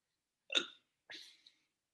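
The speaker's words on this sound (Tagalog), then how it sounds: "Sininok pa ako." Two hiccups from a person, sharp and close, sounding alone in an otherwise silent room with a short pause between them.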